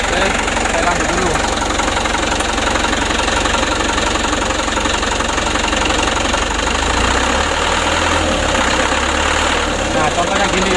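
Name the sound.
diesel engine with Bosch injection pump, gently throttled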